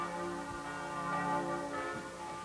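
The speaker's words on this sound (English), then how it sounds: "we wondered why they were ringing the church bells." Church bells ring on a weekday morning, a steady sustained metallic chime with lingering harmonic tones throughout, moderately distant and with no talk over it.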